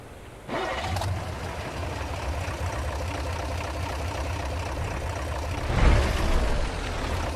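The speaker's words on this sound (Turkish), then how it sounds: "Duyuyorsunuz aracımızın motor sesini arkadaşlar." A Ford Cargo 2520 diesel truck engine in Euro Truck Simulator 2 starts up and settles into a steady low idle, rumbling close by with a brief rev near the end.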